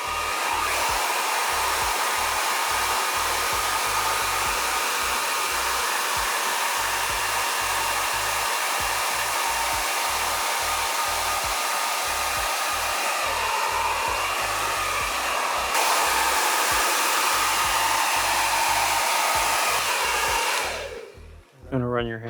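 A hair dryer blasts steadily at close range as hair is blow-dried with a brush, a loud, continuous whooshing roar that shifts slightly in pitch partway through and then cuts off near the end. No one talks over it.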